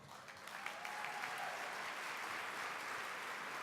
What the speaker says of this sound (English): So please, again, give those students a round of applause.